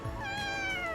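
A house cat lets out a single drawn-out meow, clear and close, rising and then falling over about a second in a quiet room.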